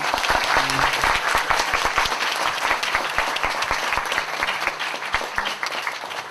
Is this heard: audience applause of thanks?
yes